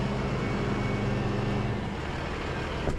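A GM truck engine rumbling loudly up close, its steady low drone easing down from a high idle partway through, with outdoor noise behind it.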